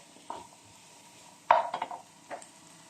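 Frozen mixed vegetables tossed with onion and garlic in a pan give a few scattered scraping clinks of a utensil against metal over a faint sizzle, mostly quiet between strokes.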